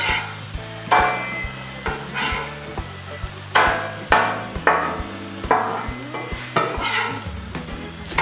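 Corned beef sizzles on a Blackstone griddle, a steady frying hiss broken by repeated metallic scrapes and taps of a spatula flipping the meat, close and distinct without speech.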